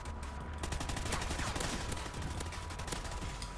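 Rapid bursts of gunfire from the shooter video game Call of Duty: Ghosts, played online on PS4, crackling in fast overlapping volleys at moderate level, steady throughout.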